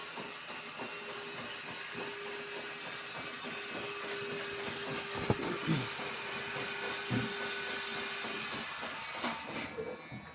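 A vehicle lift slowly lowers a Jeep ZJ, producing a faint, steady mechanical hum and hiss that runs throughout, with a few soft knocks.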